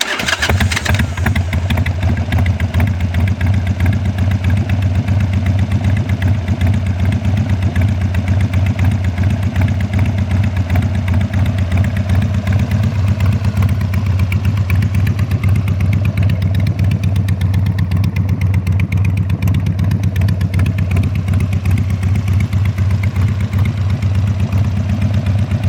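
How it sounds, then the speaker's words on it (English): A 2003 Harley-Davidson Sportster 1200 Custom motorcycle engine starts and settles into a steady, loud, lumpy idle close by, running continuously with no talk. "let's crank this thing up and hear it."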